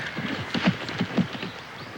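Horse hooves clip-clopping on a riding track, a rhythmic run of muffled beats close by with faint background noise and no talk.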